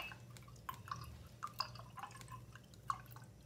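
A paintbrush is rinsed in a small water jar, giving faint scattered drips and light clinks against glass in a quiet room.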